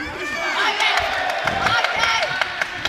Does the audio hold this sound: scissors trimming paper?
no